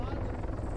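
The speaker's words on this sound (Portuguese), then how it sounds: "tô vendo helicóptero, sabe?" A helicopter in the video game Arma 3 gives a quick, throbbing rotor chop under a voice, fairly loud and close.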